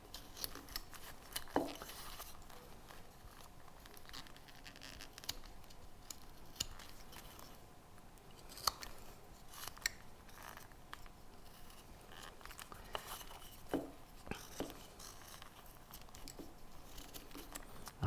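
A carving blade scrapes and shaves a wooden hair curl in soft, dry, crackly strokes, quiet and close, with occasional sharper snicks and no speech.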